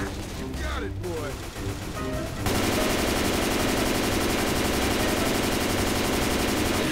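Rapid automatic gunfire in the zombie shooter Left 4 Dead 2, a dense, loud, unbroken stream of shots that kicks in partway through after a quieter stretch of game noise and mixed effects.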